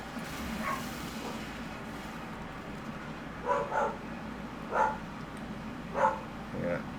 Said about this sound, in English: why the dog is barking